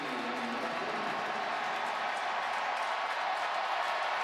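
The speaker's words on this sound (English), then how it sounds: "And the celebration has begun in earnest on the Louisville sideline in their cheering section." Louisville fans cheer in their stadium section at the Sugar Bowl football game against Florida, a steady, far-off roar of crowd noise with scattered clapping that holds level throughout, with no single voice standing out.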